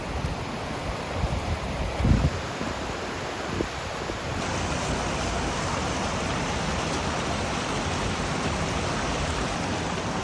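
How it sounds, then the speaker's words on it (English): A waterfall at Eaton Canyon roars as a steady, broadband rush of falling water, loud and unbroken, with a brief louder thump near the start. "Now that's a waterfall."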